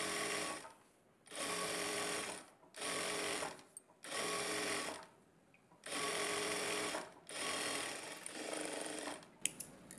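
A sewing machine stitches a blouse belt with a half-inch margin in several loud, steady bursts of whirring, each lasting about a second or two and separated by short quiet pauses.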